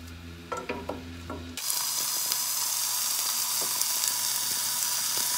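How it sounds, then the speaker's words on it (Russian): After a few clinks and bumps, a loud, steady sizzle of chicken legs frying in hot oil in a pan suddenly starts and continues crackling close up. "И теперь перекладываем их в сковородку, чтобы пожарить первыми"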